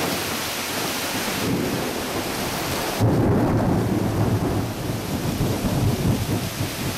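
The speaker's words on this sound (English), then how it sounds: "Here comes some thunder, I think." Thunder during a summer storm with steady rain, a loud rumbling roll swelling in partway through and lingering over the constant hiss of rainfall, with no talk.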